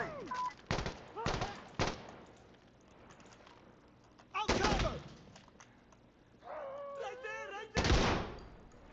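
Shotgun blasts in Insurgency Sandstorm ring out as a few loud, sharp bursts spread across the stretch, with voices and radio-like chatter between them.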